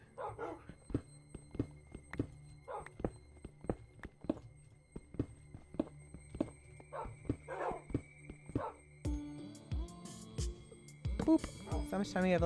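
Tamed wolf dogs in a Minecraft UHC game barking in short repeated yips and woofs alongside footstep clicks, with a louder burst of mixed noise near the end.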